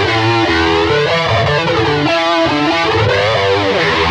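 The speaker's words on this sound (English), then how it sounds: "so let's go to the flanger." A TC Electronic Dreamscape pedal's flanger sweeps over a distorted electric guitar, loud and continuous, with the swirling comb-filter whoosh rising and falling through sustained chords.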